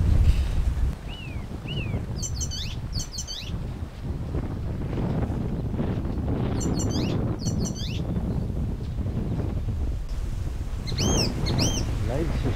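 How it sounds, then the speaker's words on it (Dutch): Small birds chirp and whistle in short bursts along a narrow, winding rural path, heard at a moderate distance over steady wind noise and the rustle of walking. "Vogeltjes die fluiten."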